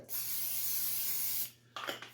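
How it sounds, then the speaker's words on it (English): Vegetable oil spray hisses steadily from a can into a pan for over a second, then a short second burst follows after a brief pause, close and clear. "get a pan started with a little bit of vegetable oil spray"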